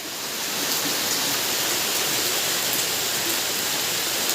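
Heavy rain pours and water gushes steadily around an outdoor clay-stove cooking spot where water is pooling, a dense, loud, unbroken hiss filling the whole stretch.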